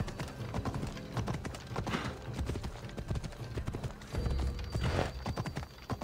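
Horse hooves in Assassin's Creed Odyssey clip-clop in a quick, steady rhythm, close and fairly loud, with a brief faint snort or whinny mixed in.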